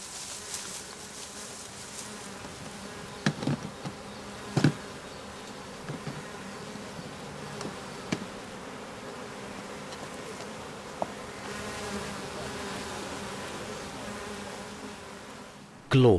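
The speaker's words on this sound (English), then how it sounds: "A queen bee has arrived with her entourage." A dense, low hum of a swarming honeybee colony in Berlin buzzing continuously, with occasional individual bees droning past closer by.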